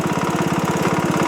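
A chainsaw engine on a Logosol Timberjig mill, after milling walnut, runs close and loud with a steady rapid pulsing drone, held briefly as it begins to slow.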